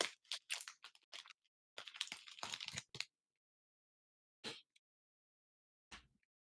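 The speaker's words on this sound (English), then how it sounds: "Listen to the crunch." Pretzels being eaten close to the microphone, with several quick bursts of dry crunching, then a pause and two isolated crunches.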